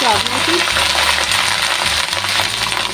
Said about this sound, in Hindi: तो मैं यहाँ पे घी के अंदर सबसे पहले नीचे मैं राइस डालूँगी।